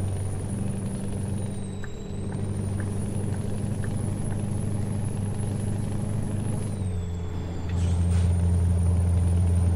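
Mack Titan Superliner truck cruising in American Truck Simulator, a steady low engine rumble with a faint high whine, dipping briefly near the end before settling into a heavier drone, no voices.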